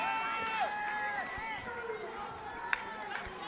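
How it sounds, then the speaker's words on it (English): Loud crowd roaring in a basketball gym during a Broncs vs. La Salle game, a steady wash of noise with sneaker squeaks cutting through and a commentator's voice buried underneath. "it's hard to hear over this loud crowd"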